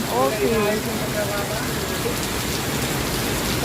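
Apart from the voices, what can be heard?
heavy rain falling on a house roof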